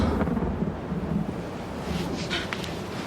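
Thunder rolls through a hurricane over a swamp near Houma, a broad, low rumble over steady storm noise with no one speaking.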